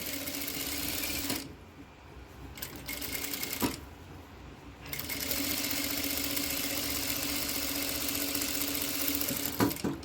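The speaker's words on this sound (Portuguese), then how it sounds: "Ó, o calcador aqui, encostadinho, e venho costurando" A sewing machine stitches lace trim, its motor whirring and needle chattering in a steady hum that cuts off twice for brief pauses before running on, close and even, with no talking.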